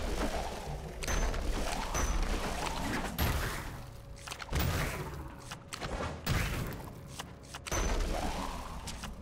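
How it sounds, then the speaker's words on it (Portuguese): Repeated booming blasts and crashing impacts from an explosion attack in LEGO DC Super-Villains, heavy and loud, arriving in bursts every second or two with rumbling tails. "um ataque de explosão"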